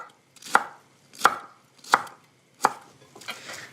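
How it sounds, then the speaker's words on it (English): A knife chops through the heart of a Savoy cabbage on a board: four crisp, evenly spaced cuts, close and loud, then a softer fifth stroke, with no talking. "The heart of the Savoy cabbage was left. We're going to cut it and use it in the sauce."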